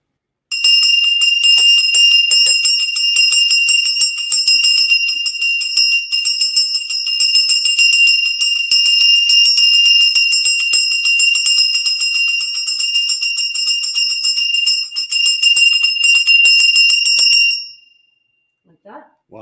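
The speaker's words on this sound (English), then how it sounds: "You can also do the same thing with a Wiccan bell." A Wiccan bell rings continuously for about seventeen seconds while clearing a space, bright and close with a steady sustained tone and shimmering overtones, then stops abruptly.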